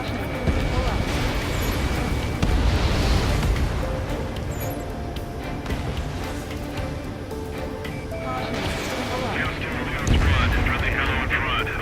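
Missile launch and jet aircraft in the combat flight game Ace Combat 7, a sustained loud roar of engines with whooshing swells and rumbling bursts, under radio chatter and talk.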